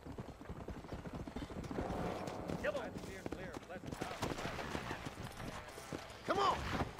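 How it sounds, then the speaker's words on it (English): In Red Dead Redemption 2, a horse's hooves clip-clop closer on the ground, with a whinny and other in-game sounds mixed in over a rumbling background. "I'm waiting for my horse to turn up."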